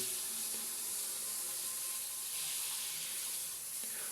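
Water runs quietly in a steady hiss through a filter shower head with filter beads, soft and even, with faint rubbing noises in the background.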